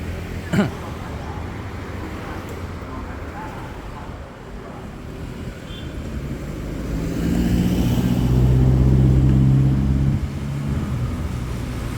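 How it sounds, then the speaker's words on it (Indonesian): A Trans Jatim Corridor 5 bus pulls away on the Purabaya–Bangkalan route, its engine hum swelling into a louder low drone midway before easing, heard from inside with steady road and traffic noise and occasional talk. "Busnya berangkat."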